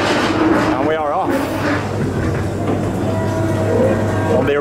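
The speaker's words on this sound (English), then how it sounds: "On the ghost train, only wait about 10 minutes, and we are off." The original ghost train ride at Blackpool Pleasure Beach sets off with loud mechanical rumbling and clanking of the car along its track, with a brief squeal early on and voices throughout.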